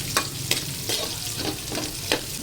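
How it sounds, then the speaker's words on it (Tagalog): Garlic and onions fry in a pan with a loud, steady sizzle. A utensil stirs and scrapes through them in a few quick, regular strokes. "ilagay na natin yung ating bawang at sibuyas"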